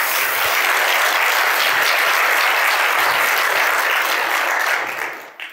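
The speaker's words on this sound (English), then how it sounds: "I think they also deserve an applause." An audience at a conference assembly in the Basque country applauds, loud sustained clapping that fades out near the end.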